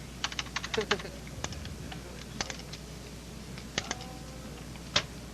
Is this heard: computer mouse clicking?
yes